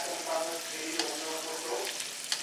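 A spoon stirs a beef mixture in a pot, giving soft wet sloshing and light clinks over a low simmering sizzle, close and fairly quiet, with no voices.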